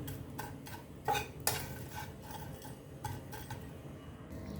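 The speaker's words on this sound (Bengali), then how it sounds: "শুটকি রান্না করব, এই জন্য হালকা টেলে নিলাম।" Dried fish is lightly dry-roasted in a pan while being stirred. Quiet, close scraping and soft sizzling come with rhythmic clinks of a spatula against the pan.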